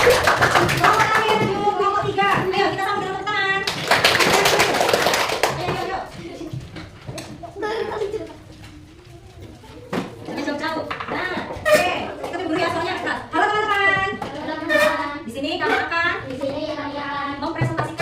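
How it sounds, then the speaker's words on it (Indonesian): Children in a primary school classroom clap their hands together on cue, a loud burst of rhythmic clapping that fades out as the teacher and pupils talk over and after it. "Ayo, kita sama dengan tepuk tangan"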